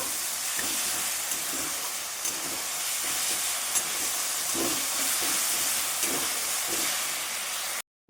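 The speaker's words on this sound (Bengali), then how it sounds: "মশলাটা খুব ভালোভাবে কষানো হয়ে গেছে" Masala sautéing in a pan with split green chillies, a continuous hissing sizzle with soft irregular stirring scrapes, steady and close before stopping abruptly.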